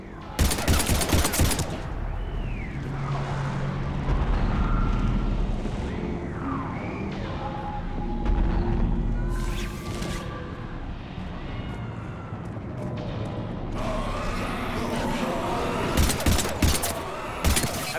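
Rapid automatic gunfire and bursts of shooting ring out in a Mass Effect Legendary Edition firefight against husks. The shots are loud and close, with dense sustained fire at the start and again near the end, over a rumbling combat bed.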